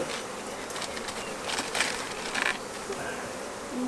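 Honeybees drone steadily around hive boxes as a strong swarm is combined with a weak hive, a dense, close, continuous buzz with a few louder passes of individual bees.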